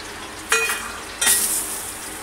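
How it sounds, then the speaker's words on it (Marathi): Crushed garlic dropped into hot oil for a tempering: two quick bursts of loud sizzling, then a steady crackle that carries on. "आता गरम तेल होतंय, पण गरम तेल झालेलं आहे। आता त्यामध्ये हा लसूण टाकते"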